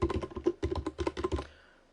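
Quick clicking keystrokes on a computer keyboard while entering text in Adobe Illustrator, about a dozen close, crisp taps in uneven bursts that stop and fade into quiet.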